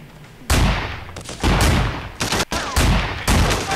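Heavy automatic gunfire from machine guns in the video game Sleeping Dogs, loud sustained bursts and rattling volleys with brief gaps between them and no talking.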